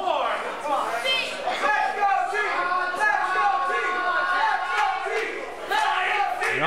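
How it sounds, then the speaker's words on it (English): A wrestling crowd at an independent RWA show shouts and cheers, rising in loud ragged bursts of voices with a commentator talking over the noise. "Crowd starting to come alive with chance for T, and he's pointing."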